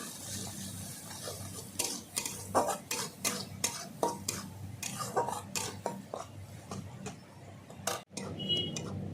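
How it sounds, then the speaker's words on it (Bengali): Masala cooking with salt for a silver carp and potato fish curry, stirred with a metal spoon against the pot in quick repeated scraping clinks over a low background hum, close by. "লবণ ভালো করে কষিয়ে নেব"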